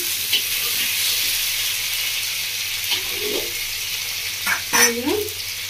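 Tomato and fried potato sautéing in oil for a Bengali village-style bata fish curry, a steady close sizzle with occasional stirring scrapes and a brief faint voice near the end.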